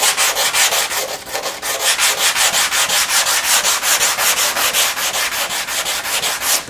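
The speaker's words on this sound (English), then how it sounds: "Just a stiff block with some 80 grit. Just holding it flat, and that will highlight the high spots and the low spots." An 80-grit stiff sanding block is pushed flat across a rough truck body by hand, making loud, close, rhythmic back-and-forth rasping strokes at an even pace with no talking.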